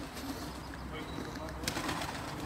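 Domestic racing pigeons cooing at a keeper's loft in Aigaleo, soft murmuring calls and a brief flutter heard beneath people talking nearby.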